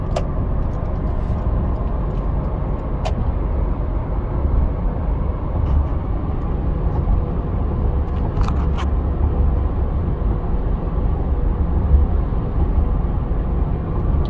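Steady, low road rumble inside a 2006 Mazda MPV van cruising on cruise control at 55 mph. Engine and tire noise hold constant with a few faint clicks and no talking.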